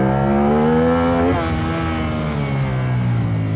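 A CFMOTO 450NK motorcycle engine revs hard and loud up close, a steady rising drone of stacked harmonics that dips briefly as it shifts, then keeps pulling alone without talk.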